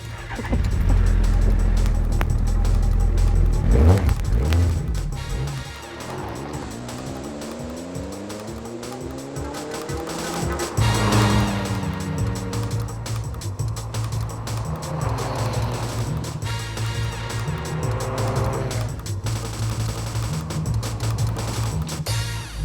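A car pulling away, a loud close engine rumble that revs and rises in pitch through the gears, then settles into a steady driving drone.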